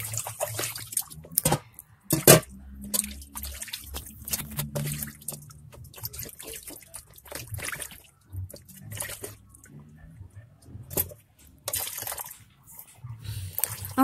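Water runs and splashes in a sink while beef tongue is washed by hand, intermittent gushes and drips with handling noises, close by, in bursts separated by short pauses.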